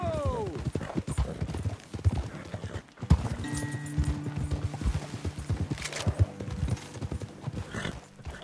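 Horse hooves clip-clop in a steady rhythm close by in Red Dead Redemption 2, with a snort and brief tonal effects partway through.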